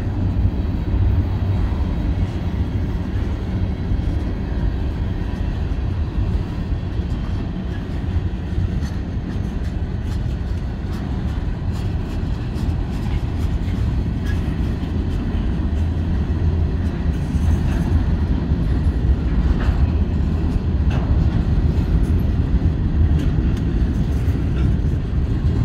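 CSX and Norfolk Southern freight trains rolling past near a rail diamond, an old Conrail 86-foot railcar among them, with a steady, loud low rumble and wheel noise throughout, no voices.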